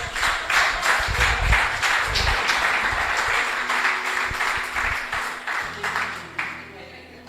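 A church congregation applauds during a Spanish-language sermon, dense clapping filling most of the stretch before thinning out near the end as a low hum takes over.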